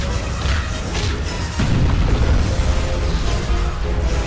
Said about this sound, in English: Not sure what exploded, but something did